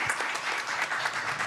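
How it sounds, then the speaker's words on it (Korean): Audience applause at a 2022 Jeju Forum panel on the space industry, steady continuous clapping from a hall full of people, fairly loud and even throughout. "박수로 맞아 주시죠."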